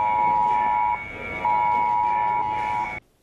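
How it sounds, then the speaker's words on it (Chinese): Taiwan's national disaster prevention day earthquake drill warning alarm sounds as a loud, sustained electronic tone that breaks off briefly, resumes, then cuts out abruptly. "发布地震模拟警报"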